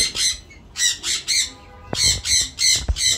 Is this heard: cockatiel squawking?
yes